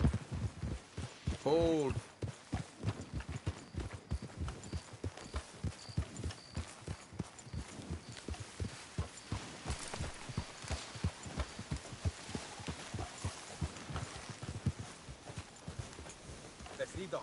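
Horse hooves clip-clop steadily in Red Dead Redemption 2, a continuous rhythmic trot on a dirt road carrying through the whole stretch, with a brief spoken word early on over the hoofbeats.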